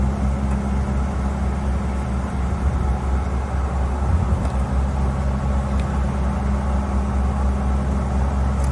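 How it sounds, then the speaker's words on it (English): A steady, loud droning hum with a low rumble, like big fans running nearby, unchanging throughout with no voices. "It's the neighbors. They got loud fans,"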